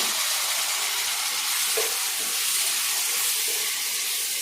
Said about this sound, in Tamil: எல்லாம் நல்லா வதங்கி வரட்டும்